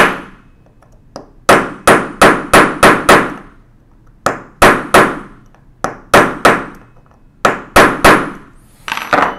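A punch is hammered against a taper pin on a 1920s Monroe Model K mechanical calculator, giving sharp metallic clinks in rapid bursts of four to six strikes separated by short pauses, close and loud.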